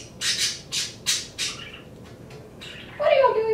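Pet birds squawk in the background, a series of four harsh bursts in quick succession followed by a louder, longer screech, fairly close and heard without speech.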